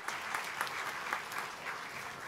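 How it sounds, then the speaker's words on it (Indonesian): Audience applause fills a public expose and due diligence meeting for PT Venteny Fortuna International Tbk, a steady, dense clapping with no talk over it. "Boleh kita beri tepuk tangan yang paling meriah?"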